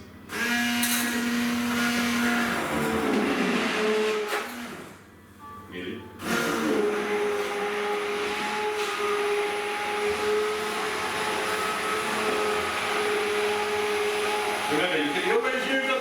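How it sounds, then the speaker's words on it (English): A handheld stick blender whirs steadily through sweet potato coconut soup, loud and continuous, with one short pause midway before it starts up again. "I'm going to get my stick blender or my handheld blender, and I'm going to do this."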